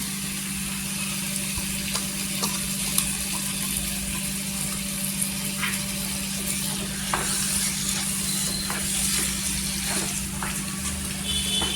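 Mashed eggplant bharit being stirred into frying masala in a pan, a continuous moderate sizzle with intermittent soft spoon clicks and scrapes over a steady background hum.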